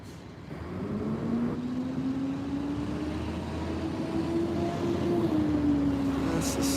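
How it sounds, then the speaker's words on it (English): A garbage truck drives past on a street, its engine droning with a rising whine as it approaches and grows louder, a steady rumble underneath throughout. "Oh, it's this truck. That's the sound I was hearing."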